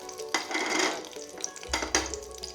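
Whole garam masala spices tipped into a small amount of hot oil for a dum chicken, giving a sudden sizzle and crackle with a few pan clatters and stirring noises, close and moderately loud.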